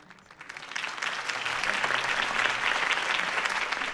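Crowd applause following a campaign speech in the Telltale Batman video game, clapping that swells in from quiet to a steady, dense roar of many hands and holds at full strength.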